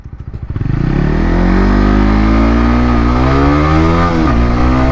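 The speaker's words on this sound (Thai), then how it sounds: "ตอนนี้ครับผมก็กำลังอยู่บนเจ้า All New CBR 150R ครับผมเดี๋ยวเราจะมาทดสอบว่า เวลาขับขี่จะเป็นยังไงครับ" A 2021 Honda All New CBR150R motorcycle engine heard while riding, starting with a few quick revs then climbing into a loud, steady, rising engine drone through the gears, very close and alone without talk.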